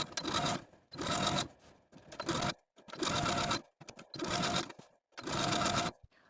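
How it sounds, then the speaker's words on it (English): Sewing machine stitching a silk dress, understitching the seam allowance to the facing in six close, fast bursts separated by short pauses, with no speech. "We're going to sew the seam allowance to the facing about 1/8 of an inch away from the original stitching line all the way"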